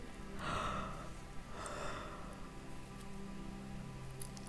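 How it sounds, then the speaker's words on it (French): A person yawns during a relaxation breathing exercise, two drawn-out breathy yawning exhalations close to the microphone, then quiet room noise. "Et puis tu vas bâiller."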